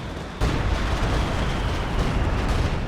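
A Stuka dive bomber barrage explodes in Company of Heroes 2, a World War II strategy game. A sudden loud blast opens into sustained, dense rumbling and crackling explosions that stay steady and close to the end.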